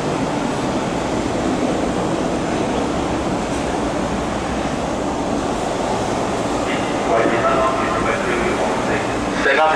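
MTR SS8 electric locomotive 0192 hauls a through train past Sha Tin station platform, a continuous rumbling roll of wheels and carriages heard nearby, with brief brighter rattles and squeals near the end.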